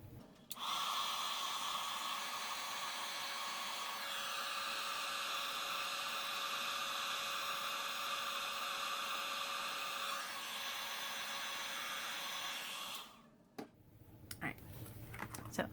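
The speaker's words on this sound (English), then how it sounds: "I think I'll hit this with the heat tool." An embossing heat gun used on a soft-pastel stamped card blows a steady, loud broadband whoosh for about twelve seconds, then cuts off abruptly, leaving faint handling clicks.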